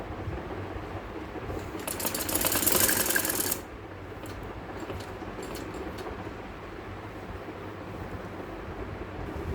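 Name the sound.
sewing machine stitching lace onto a kameez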